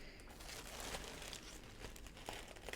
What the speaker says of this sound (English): I'm just gonna cut into this bag